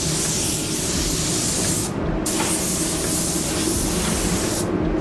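Spray gun laying down pearl white paint, a loud steady hiss running continuously with two brief dips as the trigger eases, close and alone.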